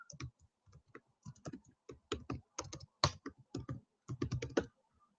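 Keys on a computer keyboard clatter in quick, irregular bursts of clicks, close and fairly quiet, with short pauses between runs of typing.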